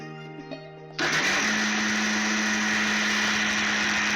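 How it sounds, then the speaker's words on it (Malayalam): A kitchen mixer blender starts abruptly and runs with a loud, steady whirring grind, pureeing a cooled tomato and carrot mixture into paste for soup. "ഇനി ഇത് മിക്സിയുടെ ജാറിലേക്ക് മാറ്റുന്നു. അരച്ചെടുക്കാം പേസ്റ്റായിട്ട്."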